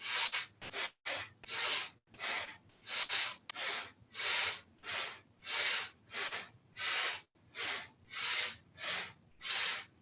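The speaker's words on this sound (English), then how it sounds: "It's called an Ujjayi breath." Slow, rhythmic ujjayi breathing through the nose with a hissing, ocean-like rasp, about a dozen long inhales and exhales in steady alternation, close up with no talking.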